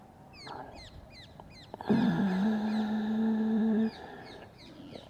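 Small birds chirp in quick repeated bursts, with a louder bird call holding a steady note for about two seconds in the middle.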